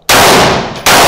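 AR rifle firing 5.56 rounds outdoors: a sustained, very loud burst of gunfire filling most of the second, a brief break, then another shot cracking in at the end.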